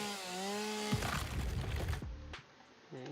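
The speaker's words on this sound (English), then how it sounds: "Oops. Chainsaw." Chainsaw in the factory-building game Satisfactory, a whining motor with a rising pitch that drops into a rough buzzing cut, then a couple of short revs, fairly faint and heard without talk.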